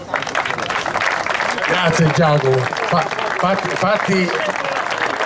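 Applause from a crowd at the Italian Meteor sailing championship awards, a steady wash of clapping under someone talking loudly over it.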